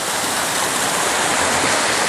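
A creek rushes steadily down a hillside near a tunnel, a loud, dense, continuous broadband wash of flowing water close by with no pauses or voices.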